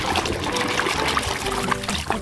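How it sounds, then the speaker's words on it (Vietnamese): Water trickles and pours steadily over a large toy truck being washed, a continuous close splashing stream with small irregular drips throughout. "để mình sẽ rửa thật là sạch, mình xem đến xe gì đây"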